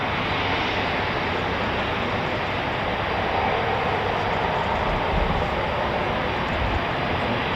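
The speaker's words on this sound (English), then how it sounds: "we've got 2 more Typhoons going out." Two RAF Eurofighter Typhoon FGR4 jets departing an air base, a loud continuous roar of jet engines that stays dense and steady for the whole stretch, with no voices.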